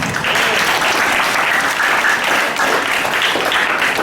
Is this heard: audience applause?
yes